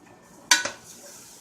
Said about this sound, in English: Don't forget to stir it, because like I said, chocolate can burn, and yes, it will stick